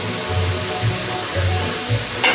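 Mushrooms sautéing in a hot pan give a steady, close sizzle and crackle, with a low rhythmic hum pulsing underneath and a brief louder hiss near the end.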